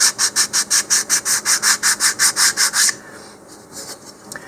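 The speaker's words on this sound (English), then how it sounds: "I'm going to use some 220 grit sandpaper here and just lightly sand off the excess sanding sealer" 220 grit sandpaper lightly rubs excess sanding sealer off wooden model rocket fins in about fifteen quick, even back-and-forth strokes, close and crisp, then stops into quiet scraping.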